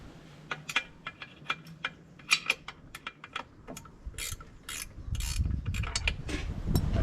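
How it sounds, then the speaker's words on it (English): A spanner loosening the last bolt on the lower unit of a Honda BF 75–100 outboard gives close, irregular metallic clicks and ratcheting taps, then a denser scraping clatter near the end. "Just going to put a spanner."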